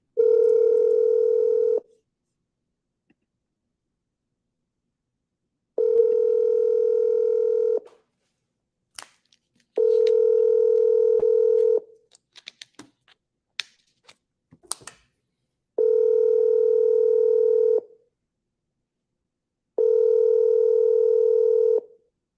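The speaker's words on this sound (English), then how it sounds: "Let me call this guy back because say we declined the call." A telephone call being placed, heard as a series of steady two-second tones separated by pauses, with a burst of clicks and small taps around the middle. The line rings repeatedly with no one answering.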